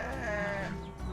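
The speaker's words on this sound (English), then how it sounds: "the sheep are talking to me" Sheep on a countryside farm in Morocco bleat in a wavering, drawn-out call, close and moderately loud over a dense background of other animal noise.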